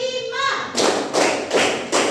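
A classroom of children claps together in a morning ice-breaker routine, several loud group claps landing in a steady rhythm after a brief voice at the start.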